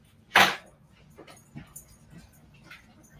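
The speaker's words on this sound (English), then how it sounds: "That's my dogs." Excited dogs just home from a walk give a sharp yip followed by soft whimpers and small whines in a quiet indoor room.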